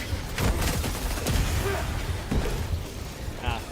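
A sentry turret in Helldivers 2 fires rapid bursts of shots with booming impacts amid chaotic battle noise, fairly close and punchy over a short span.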